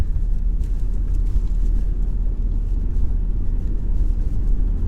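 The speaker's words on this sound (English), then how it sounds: "Now we're gonna drive." A car drives along roads after a heavy blizzard, heard from inside as a loud, steady low engine and road rumble that holds constant throughout.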